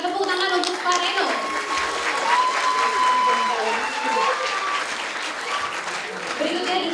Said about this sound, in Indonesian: Boleh berikan tepuk tangan untuk Pak Reno.